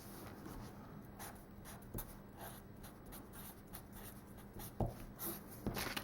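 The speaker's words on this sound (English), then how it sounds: "We'll just write here on our receipt again." A fine-point ink marker scratches across a paper receipt in a quiet room, a soft steady rasp with faint taps and brief louder strokes near the end.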